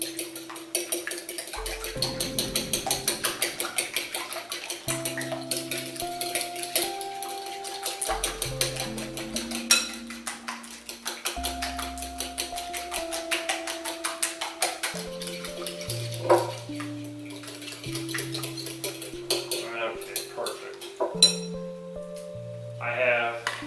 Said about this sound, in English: Just going to give these a little mix and a little beaten.